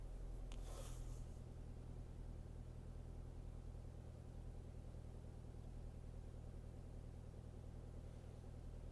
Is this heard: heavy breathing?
no